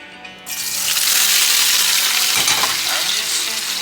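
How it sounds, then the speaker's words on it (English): Potatoes hit virgin olive oil in a pot and burst into a loud, steady sizzle that starts abruptly and holds, with a brief stir partway through. "We're gonna go ahead and fry the potatoes in some olive oil"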